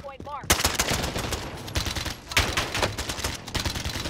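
Rapid gunfire from Call of Duty Warzone gameplay, dense bursts of automatic shots crackling almost continuously, loud and close, with several sharp louder reports standing out.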